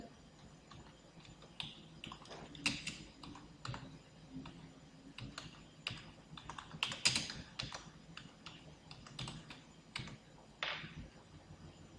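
Fingers typing text on a computer keyboard produce irregular bursts of soft, close key clicks, with brief pauses between flurries and no voices, fairly quiet overall.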